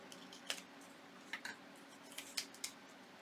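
Scissors trim paper for a small booklet, giving a few faint, quick snips spread over a few seconds in a quiet room.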